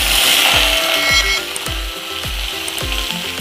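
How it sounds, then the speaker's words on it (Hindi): Jackfruit and potato pieces fry in hot oil with a loud, steady sizzle, close up, while a spoon stirs the pan in regular knocking scrapes roughly every half second. "ऑयल हमारा गर्म हो चुका है, अब हम इसमें अपने कटहल आलू डाल देंगे।"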